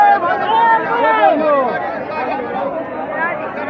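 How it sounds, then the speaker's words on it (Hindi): A dense crowd of pilgrims at the Ganga bathing site in Prayagraj fills the air with loud, continuous overlapping chatter and babble, close and steady throughout. "बहुत भयंकर भीड़ है यहाँ पे"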